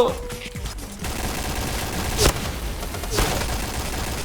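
Bursts of gunfire from the G11, a new high-priced gun in the shooter game Point Blank, with two sharp shots standing out over a steady bed of game noise.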